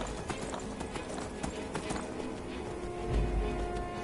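Horse hooves clip-clop in a steady walking rhythm in the video game Skyrim, moderately close, layered over game ambience with a low rumble near the end.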